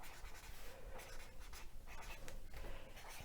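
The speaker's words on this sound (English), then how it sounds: "So I'll just write that." Hand writing on paper, a close, quiet scratching and rubbing of the pen in short irregular strokes, heard alone.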